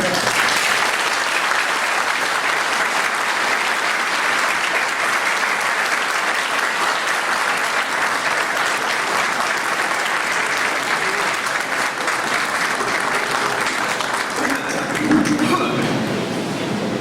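Sustained audience applause after a speech at a law-themed ceremony honoring a doctor, dense and steady throughout with a slight swell near the end.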